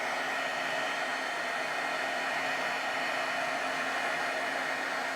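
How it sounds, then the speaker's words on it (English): A heat tool melts clear embossing powder on a stamped card-making project, giving a steady, loud blowing roar with no change from start to finish. "And then we can go in and heat set this."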